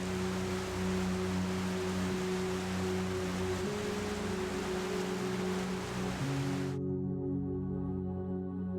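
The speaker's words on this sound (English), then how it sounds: "That raw force became Niagara Falls, a place that looks like a painting, but sounds like thunder." Niagara Falls thunders as a steady, dense roar of falling water, broad and unbroken for several seconds with a low rumble beneath, then cutting off abruptly near the end, leaving only a faint low hum.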